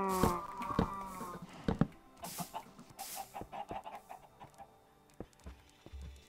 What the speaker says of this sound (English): Hear my chickens.